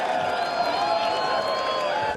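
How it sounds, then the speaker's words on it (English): Beach crowd at a surf contest in Rio cheers and chants for a Brazilian surfer, a dense, steady roar with whoops carrying throughout, loud and continuous. "and the crowd loves it"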